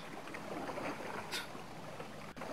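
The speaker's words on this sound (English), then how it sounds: "I hear the water here, over on deck 2." Water sloshes and trickles on a ship's deck in a video game, a soft continuous watery wash with a brief splash near the middle, faint and without talk.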